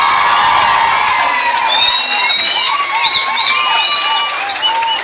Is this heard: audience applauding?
yes